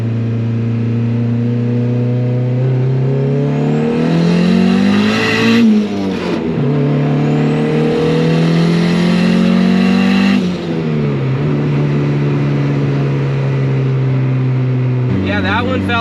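Turbocharged Honda Civic single-cam engine pulling hard through the gears on a high-boost run, loud and close from inside the car, rising engine note with two upshifts and a steady drone between, no talk heard.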